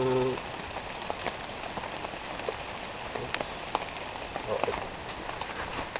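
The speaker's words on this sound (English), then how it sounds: "Yeah, it's still raining." Steady rain patters on surfaces at a wilderness canoe campsite, a dense, even hiss of drops with occasional louder individual splats, and a voice speaks briefly at the start.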